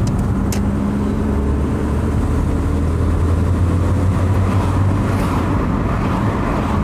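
Inside a Renault 21 GTS on the move, the engine drones low and steady beneath constant road and wind noise, with no one speaking.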